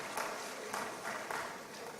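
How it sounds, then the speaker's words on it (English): Audience at a provincial legislature sitting applauds the participants, a broad wash of steady clapping with several louder swells, moderately distant and continuous throughout. "Can we give all the participants a round of applause?"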